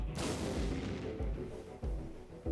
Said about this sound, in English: It's a bombing.